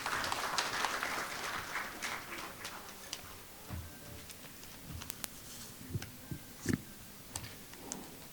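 A conference audience claps to welcome the chairman to deliver the welcome address, with applause starting fairly full and thinning into scattered individual claps over several seconds.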